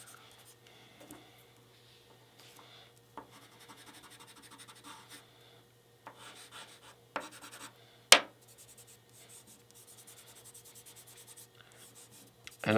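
Charcoal drawn across gray paper, soft scratchy strokes and rubbing at close range, mostly faint with a few louder scrapes and one sharp tap.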